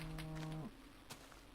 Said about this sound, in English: That was a fucked up cow noise, dude.